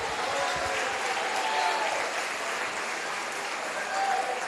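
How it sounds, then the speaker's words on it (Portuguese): A church congregation applauds during a worship service, a steady wash of clapping from many hands that holds evenly throughout, with faint voices mixed in. "Você pode aplaudir o nome do Senhor"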